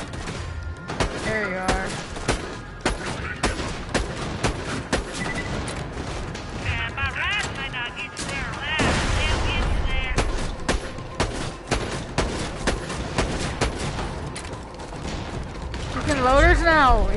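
Rapid bursts of gunfire from Borderlands 2 VR crackle throughout, loud and dense, mixed with game music, effects and someone talking over the shooting.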